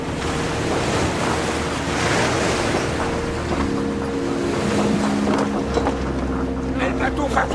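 A boat at sea battered by wind and waves, a steady loud roar of water and gusting wind with engine-like droning throughout, with shouting voices over it.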